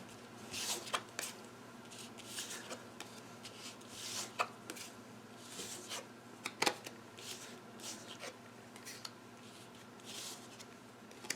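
Playing cards handled, shuffled and laid out one after another on a table, giving a run of soft slaps, flicks and rubs at close range, quiet, with no talk over them.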